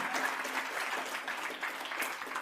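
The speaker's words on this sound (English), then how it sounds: "give a round of applause one more time to Tyrone Hernandez" An indoor audience claps steadily and warmly for a performer at an office opening event, sustained applause with no talk over it.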